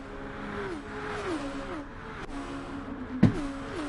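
McLaren race car engine in GT Sport at Sainte Croix, a steady high whining drone with rising and falling revs as it moves up the inside, plus a brief sharp thump near the end.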